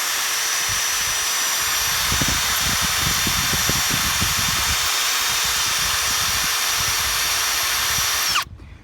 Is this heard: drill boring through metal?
yes